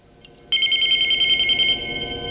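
An old-style telephone bell rings in a film scene, a sharp, loud, rapid metallic trill starting abruptly after a brief quiet moment and sustaining steadily before easing slightly.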